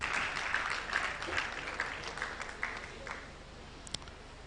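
Audience applause at a university of medical sciences ceremony, a moderate spread of clapping that tapers off over a few seconds with some faint voices beneath.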